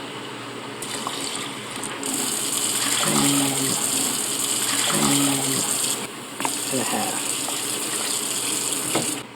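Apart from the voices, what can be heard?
pouring cups of water into rice for cooking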